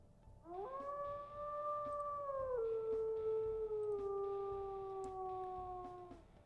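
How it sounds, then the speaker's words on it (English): A wolf in the video game WolfQuest howls in a long, sustained, clear call that holds steady, drops in pitch partway, then continues smoothly to the end, alone over a low background hum. "we'll go ahead and we'll listen to his howls"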